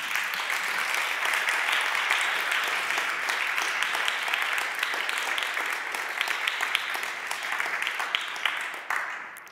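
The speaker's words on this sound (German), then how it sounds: "Ich finde, das ist auch mal ein Applaus wert." Sustained applause from a festival audience at the closing of the Berlin main stage conference day, a dense steady wash of many hands clapping that carries on for several seconds before tapering off, with no speech over it.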